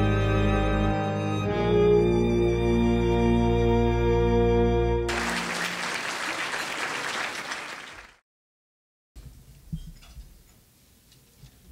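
At an awards ceremony, sustained musical tones give way to roughly three seconds of audience applause, then a brief silence and faint scattered sounds.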